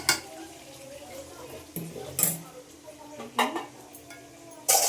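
Spicy red chicken kosha is stir-fried in a pan, with intermittent clanks and scrapes of a spoon against the pan over a faint sizzle, the strokes coming in sharp separated bursts.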